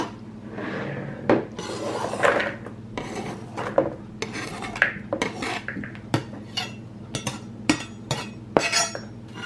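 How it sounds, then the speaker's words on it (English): Beef pieces for Filipino beef steak scraped and dropped into a bowl, a close run of rubbing, scraping and clinking knocks against the dish, irregular and fairly loud. "And then I'm going to put it into the bowl."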